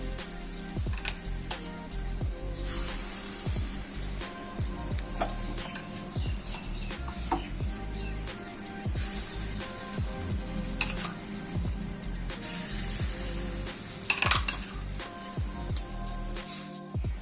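Calabash and dried lentil dumplings fry in hot oil in a pan for a Bengali curry, giving a continuous crackling sizzle with scattered pops and occasional stirring clatter close by.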